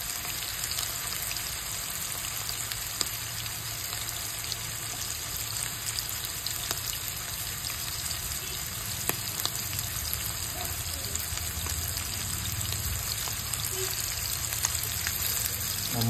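Mutton chops frying steadily in a pan, a dense continuous sizzle and crackle with small pops, close and even throughout, with no talk over it.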